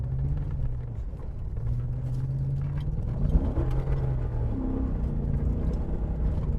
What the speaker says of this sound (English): it's a really bad popping noise. It's like something's banging under there